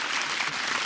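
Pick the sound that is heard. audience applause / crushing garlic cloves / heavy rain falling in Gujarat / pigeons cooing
audience applause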